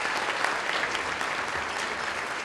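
Steady applause from banquet guests at a Georgia 4-H Congress leadership banquet, a soft, continuous patter of many hands heard from a distance.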